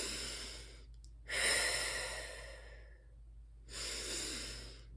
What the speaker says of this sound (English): he does the breath work, but he does it a lot more vigorously, right? So big, powerful breaths